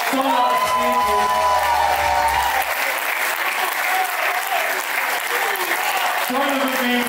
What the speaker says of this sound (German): toller Tanz, toller Applaus